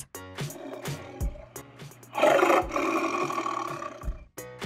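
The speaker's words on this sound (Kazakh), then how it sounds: "Жолбарыс." A cartoon tiger gives a short, loud roar with a harsh, rumbling tone, lasting about half a second, over bright children's music with a steady bass line.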